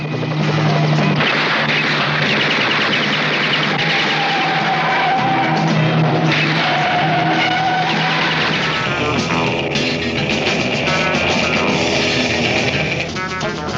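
Sports car racing with skidding tires, a loud, dense roar of engines and screeching rubber that fills the whole stretch without letup, heavily saturated, with no voices over it.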